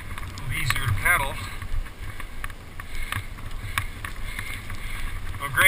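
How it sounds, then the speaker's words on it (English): Wind gusts and rushes steadily across a microphone on a snowy city street at minus ten degrees, loud and continuous, with a faint voice briefly underneath. "the wind is howling"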